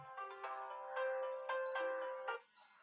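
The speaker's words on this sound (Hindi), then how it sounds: "किसी का फोन आ गया" A phone ringtone for an incoming call rings out alone, a repeating melodic tone pattern in steady pulses, fairly loud and close.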